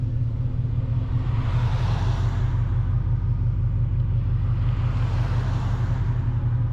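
Dodge Challenger SRT8 with an SLP Loudmouth exhaust idles close by, a deep steady burbling rumble that holds even throughout, with no voices.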